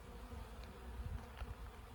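Honeybees buzz around an opened beehive during an inspection, a continuous low droning hum of many insects close by, steady and moderately quiet.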